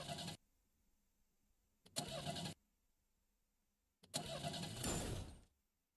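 A truck engine in the Arknights video game sputters and stalls: three separate bursts of rough engine noise with quiet gaps between them, the last one longer and trailing off into silence.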